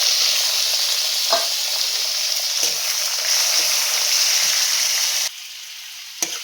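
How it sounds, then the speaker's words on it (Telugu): Chopped onion and green chilies fry for upma in a pan with a steady close sizzle, broken by a few soft scrapes and taps of a spoon, the hiss dropping slightly near the end. "ఇప్పుడు ఉల్లిపాయ పచ్చిమిరపకాయ వేగింది"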